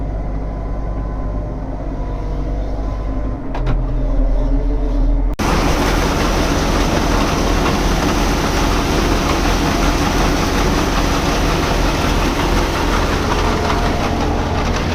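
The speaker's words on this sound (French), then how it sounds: "Puis moi je vais mettre le tracteur comme ça là." A farm tractor's heavy engine drones steadily up close, then abruptly swells much louder and stays at a dense, constant roar as the machine moves out on the field.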